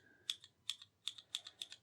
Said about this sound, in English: So these are the linear keys, so there's no kind of sound or anything like that comes through with them